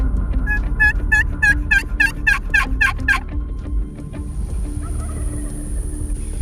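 A loud, rapid run of wild Rio Grande turkey gobbles rattles out nearby on a Texas-style ranch hunt, then fades into quiet outdoor ambience with a faint distant call.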